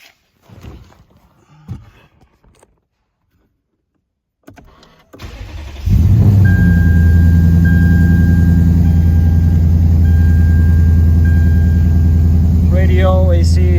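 2008 Lexus IS F with aftermarket exhaust and headers cold-starting: a brief quiet stretch with handling noises, then a starter crank and a loud, steady, deep idle rumble that holds close and constant to the end.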